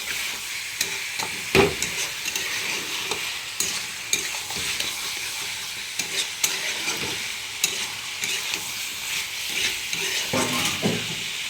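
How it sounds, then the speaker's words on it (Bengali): Spice masala for chicken is sautéed in a pan, giving a steady loud sizzle. Frequent stirring scrapes and clinks sound through it. "মশলাটা কষা হোক"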